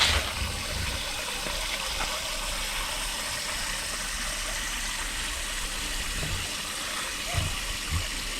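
Water spilling steadily over a small waterfall into a pool, a continuous broadband rush heard fairly close and alone, with a low rumble underneath.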